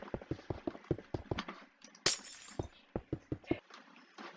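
Blocks being placed and broken in Minecraft, including glass blocks, give a quick series of sharp, close clicks and thuds in an irregular rhythm, with one brighter breaking crunch near the middle.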